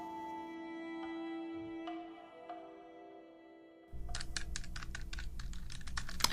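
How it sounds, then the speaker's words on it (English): A quiet tonal hum gives way to a fast run of crisp plastic key clicks, like a calculator being tapped in an office, close and steady until the end. "A calculator clicks"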